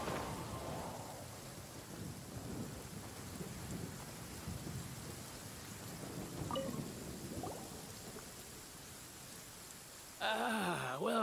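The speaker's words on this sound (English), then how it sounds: "a stroll in the middle of a downpour certainly rouses the spirit" A heavy rain downpour falls in the video game Genshin Impact, a dense, steady hiss with low rumbles, continuous throughout and close, with a brief louder tonal sound at the very end.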